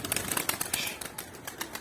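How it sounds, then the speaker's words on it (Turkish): Pigeons take off and flap their wings in quick rhythmic bursts of feathery clapping, fairly close and moderately loud over a brief stretch with no talking. "Kanadını bekledi kuş da kalktı"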